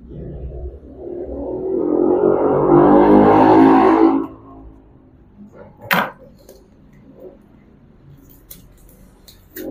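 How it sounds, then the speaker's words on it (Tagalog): An electric coffee grinder grinds coffee with a loud, close, steady whir for about four seconds, then cuts off abruptly. A sharp knock follows, then a few faint clicks and handling noises in a quiet room. "Ang ating in-order ay ang electric grinder. Yan. Para sa ating kape."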